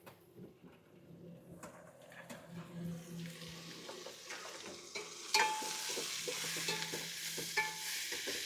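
Mutton frying with ginger, garlic and onion on a roadside stove beside a lorry, a sizzle that starts faint and swells into a loud, steady hiss, with occasional scrapes and clinks from stirring.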